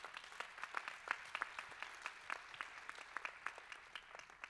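Applause at a heritage forum plenary session in honour of the Abu Dhabi team, faint scattered hand clapping with distinct individual claps, steady and without talk.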